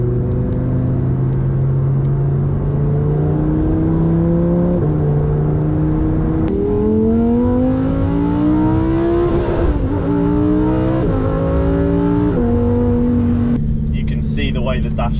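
A supercar in Corsa mode accelerates hard from inside the cabin, its engine note climbing in rising sweeps broken by quick gear shifts, loud and continuous with a voice talking over it.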